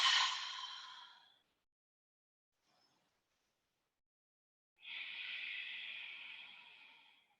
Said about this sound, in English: Maybe breathing deeply in through the nose and out through the mouth.